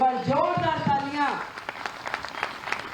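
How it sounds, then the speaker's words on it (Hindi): An audience at a political gathering for Delhi Chief Minister Rekha Gupta bursts into loud, sustained clapping, starting right after a voice. "अगर खुश हो रेखा के मुख्यमंत्री बनने से तो एक बार जोरदार तालियां"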